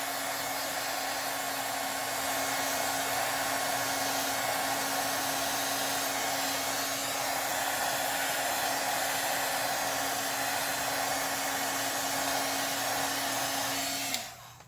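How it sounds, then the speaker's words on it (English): A heat gun blows hot air onto a glitter tumbler as it spins, a loud steady whining roar held near the microphone for about fourteen seconds before it cuts off abruptly. "I am gonna heat it with the heat gun."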